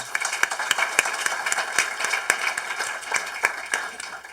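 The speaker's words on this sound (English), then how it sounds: "let's give her a round of applause as well" Audience applause at a panel discussion, a steady patter of many hands clapping with sharp, close individual claps throughout, moderately loud and without speech.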